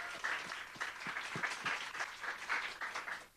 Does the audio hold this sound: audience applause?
yes